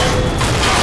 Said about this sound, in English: What a grenade.